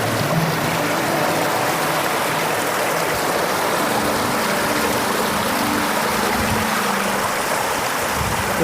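Floodwater rushes across farm fields after a night of heavy rain, a steady close broadband roar of flowing water with no breaks.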